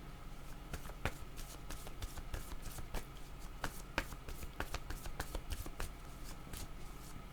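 Tarot cards being shuffled and cut in a steady, soft riffling with crisp snaps and flicks scattered through it, close and quiet with no voice.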